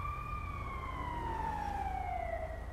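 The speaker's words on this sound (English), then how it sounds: "there's that ambulance going to that guy" Ambulance siren in GTA 5, a wailing tone sweeping slowly downward and passing steadily over a low rumbling background, moderately loud and continuous with no talk.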